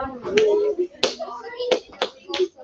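Students in a science classroom give five spaced claps, each sharp and close, alternating with a teacher's voice.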